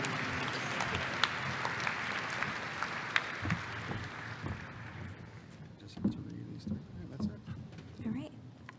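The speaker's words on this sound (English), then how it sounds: "And we want to give one more big applause to our student council." A high school graduation audience applauds the student council, steady clapping that thins out partway through as a voice starts talking and a few louder thumps come through.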